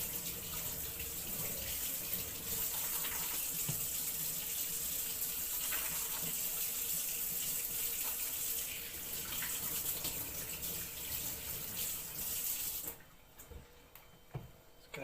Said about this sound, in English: First of all, wash your hands.